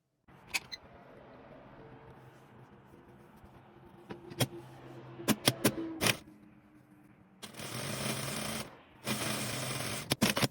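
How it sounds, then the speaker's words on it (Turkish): A sewing machine stitches a shirt placket, quiet handling clicks giving way to two loud bursts of rapid mechanical whirring close by, with no talk. "Tam buradan bir dikiş gideceğim."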